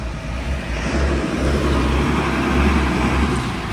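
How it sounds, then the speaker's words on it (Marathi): A Nissan Micra pulls up at the Kondwada stop on a road near Ratnagiri, its steady low engine rumble mixing with passing traffic noise, loud and close throughout. "आपली मायक्रा आलेली आहे निसानची"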